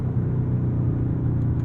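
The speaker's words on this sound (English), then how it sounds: "Those upshifts are quick." A Dodge Charger Scat Pack Widebody engine rumbles loudly and steadily from close range, a deep continuous drone that holds level throughout with no clear break between gears.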